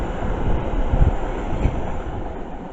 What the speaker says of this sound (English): Oh, there's the London Overground Met line just pulling up, and it's now departing at Northwick Park.